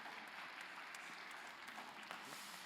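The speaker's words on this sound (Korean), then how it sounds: "우리 박수로 축복하겠습니다." A church congregation applauds during a Sunday worship service, a steady, fairly quiet wash of clapping that holds evenly throughout without a break.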